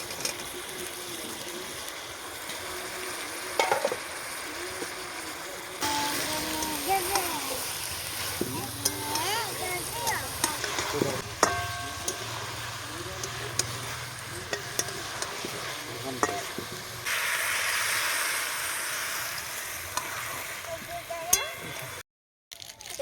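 Fried cauliflower florets and potatoes stirred in a sizzling pan while cooking a Bengali cauliflower kalia, with steady frying hiss, scraping stirs and clinks throughout, moderately loud and close.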